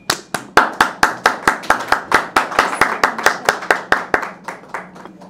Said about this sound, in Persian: تشویقشون کنیم.